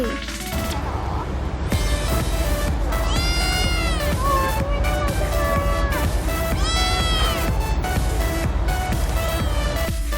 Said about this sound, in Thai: เราก็เจอแมวตรงแถวหน้าห้องน้ำเลยค่ะ น่ารักมากเลย